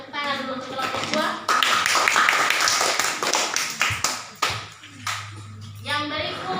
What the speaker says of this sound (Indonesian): kita berikan tepuk tangan dulu untuk kelompok 2.